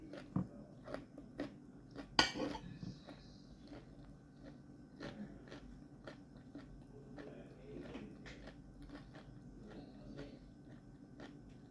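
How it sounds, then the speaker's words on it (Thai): Someone chews stir-fried salmon with beans, curry paste and kaffir lime leaves, soft irregular crunching and mouth sounds close to the mic, with a louder bite near the start and quiet gaps between chews. "ยิ่งเคี้ยวโดนใบมะกรูดยิ่งอร่อยทุกคน"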